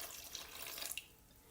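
Tap water running into a cooking pot for a Moroccan bissara fava bean soup, a steady close hiss with faint splashes that fades toward the end, no talking.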